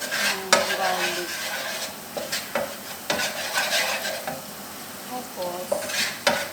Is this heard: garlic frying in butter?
yes